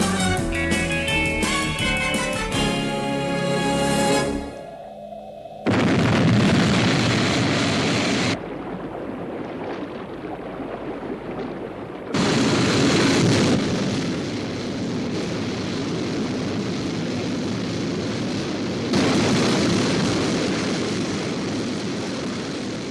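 Sky 1 interceptor aircraft lifting off and flying, a TV sound effect: loud, broad roaring engine blast that swells in surges and holds steady, with a brief tonal passage at the start and no voices.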